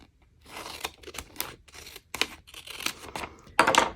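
Scissors cut through a diamond painting page, a run of crisp snipping and rustling paper strokes in uneven bursts, ending in a louder, fuller crunch near the close; close by, with no talking.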